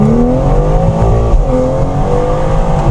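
A BMW car engine runs loud and close. It holds a steady, rumbling drone with a rattling exhaust that clatters like maracas, and no talking.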